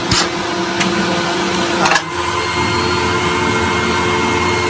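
A vintage Dyson vacuum cleaner running steadily with a loud, even motor whine and airflow hiss, a couple of clicks and knocks from handling early on.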